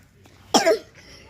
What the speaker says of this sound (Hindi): इतना खांसत है